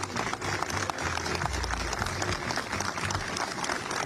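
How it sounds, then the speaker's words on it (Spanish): Studio audience applause on a television talk programme: steady, dense clapping that carries on for the whole stretch, with a low rumbling bed underneath. "El aplauso lo vamos a escuchar."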